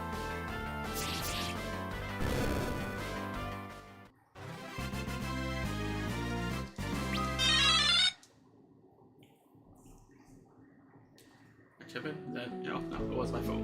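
A bright, chiming phone notification tone rings out loudly in short melodic bursts alongside game sounds, then stops, leaving quiet background before other sounds return.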